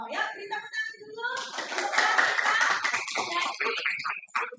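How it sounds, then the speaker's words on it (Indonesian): Children in a classroom clap their hands together for a few seconds, a dense patter of claps mixed with young voices, starting after a short stretch of speech and rising to a steady burst. "beri tepuk tangan dulu"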